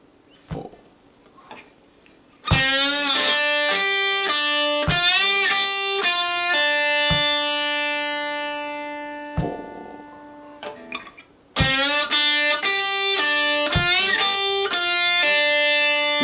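An electric guitar plays a lick, bent and sustained notes in clean, close phrases, with a pause before the pattern repeats.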